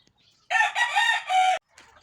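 A broodcock rooster crows once, loud and close, in a long wavering call, while agitated roosters stir on a farm near a fly pen. A faint cluck follows after the crow breaks off.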